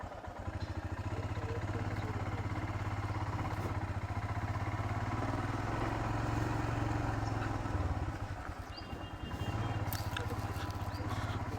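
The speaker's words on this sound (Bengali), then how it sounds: "গাড়ি এখন কোলস্টার্ট করতে দিয়েছি, কোলস্টার্ট হয়ে এসে এবার বেরোবো" A Royal Enfield Himalayan 411 motorcycle engine idles steadily after a cold start, a close, loud, even low-pitched throb that holds for the whole stretch with no voices.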